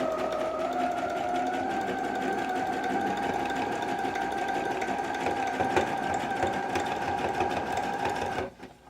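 A domestic sewing machine runs continuously stitching a dense zigzag satin stitch along a towel edge, a steady whirring motor drone that stops abruptly at the end.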